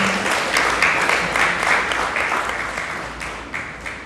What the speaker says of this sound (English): a round of applause for everyone who shared their words of inspiration